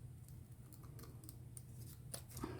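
Scissors cut out a photo for an epoxy resin keepsake, giving a series of quiet, close snips at irregular intervals against a faint background hum.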